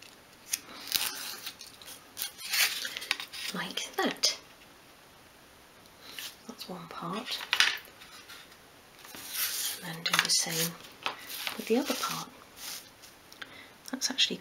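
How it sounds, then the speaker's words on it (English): A knife blade worked repeatedly through thin wood for a dolls house, cutting along the grain, giving short scraping and rasping strokes in irregular bursts, close and moderately loud, with quiet gaps between passes. "you just need to keep working the blade of your knife through it, and you will get through."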